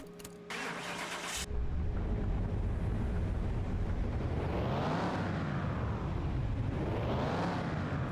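A car engine fires up on a dyno in Car Mechanic Simulator 2021, then revs hard in two long climbing sweeps, each rising in pitch and falling back, loud and continuous.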